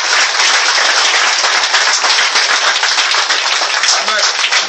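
A church congregation claps loudly and continuously in acclaim for Jesus, a dense, sustained wash of many hands with possible shouting mixed in.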